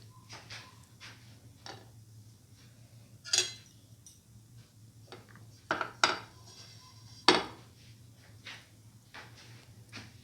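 Browned cashews are moved from a pan onto a plate, producing a few sharp metallic clinks and scrapes of a spoon against the pan, spaced out over a quiet low hum, close and without talk.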